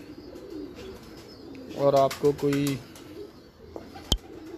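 Pigeons cooing on a rooftop, two short bursts of low throaty coos close by, with someone speaking briefly and a sharp click near the end.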